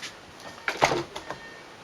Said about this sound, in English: if you pull on it like that, it opens the door